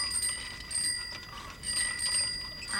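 A cartoon ice cream man's bell ringing continuously, bright metallic tinkling at moderate distance with no talk over it.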